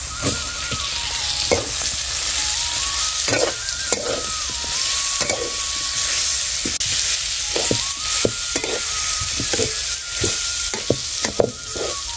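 Turmeric and potatoes stir-fried in a pan with mustard seeds, cumin and curry leaves, a loud continuous sizzle broken by repeated spatula scrapes and clacks, close up with no talk.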